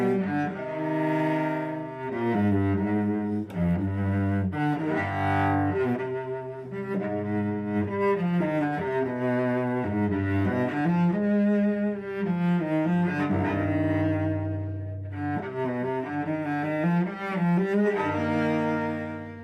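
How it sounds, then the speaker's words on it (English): A cello plays the opening of the Allemande from Bach's fifth suite in normal tuning, slow, resonant bowed phrases with rich low notes and chords, solo and close. "here is the very beginning of the Allemande from the 5th suite"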